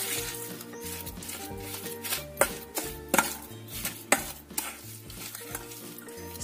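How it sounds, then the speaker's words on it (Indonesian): A spoon stirs mashed fermented cassava tape with sugar and salt in a bowl, making a steady, close, wet scraping rhythm with a few sharper knocks. Soft background music plays underneath, and no one speaks. "Kita aduk lagi sampai tercampur rata."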